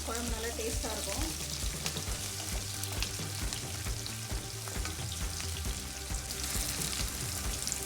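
Small onions (shallots) sautéing in a pan for a prawn and okra curry, a steady close sizzle with scraping stirs, music or background noise running beneath.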